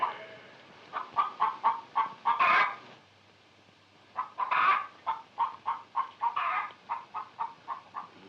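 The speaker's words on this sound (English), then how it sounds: "Lay, hen, lay." A hen clucks in two rhythmic runs of short, evenly spaced clucks, each rising into a louder drawn-out squawk, with a brief quiet pause between them, close and clear and free of speech.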